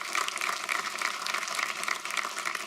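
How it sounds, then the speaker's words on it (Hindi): Brisk audience applause on a Hindi television singing reality show, a dense patter of many hands clapping close by at a steady level, with no talking over it. "जोरदार तालियां हो जाएं।"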